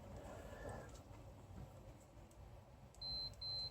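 Two short, steady electronic beeps from a multimeter's continuity mode, close and clear over a low background hum.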